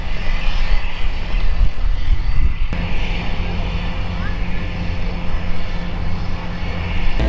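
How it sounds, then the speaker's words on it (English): Engine of a Harbour Air floatplane idling before takeoff in Victoria Harbour, a steady low drone heard from a distance across the water with background bustle, continuous throughout. "We have the Harbour Air aircraft just there, I believe, ready to take off."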